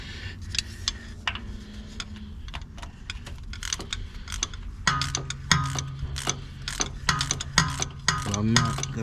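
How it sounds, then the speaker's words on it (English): Ratcheting and metallic clicks from a hand wrench tightening starter bolts on a Dodge Charger with a 5.7 Hemi, rapid repeated ratchet bursts up close, getting busier and louder in the second half. "Now I'm gonna tighten up these bolts."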